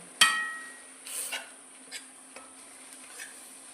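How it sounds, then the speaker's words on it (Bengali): Taro leaves are stirred in a cooking pot with a utensil. A sharp metallic clank opens, and softer scraping and knocking strokes follow at irregular intervals over a faint steady hum, close and fairly quiet. "আমি এটাকে এবার ভালো করে নাড়াবো"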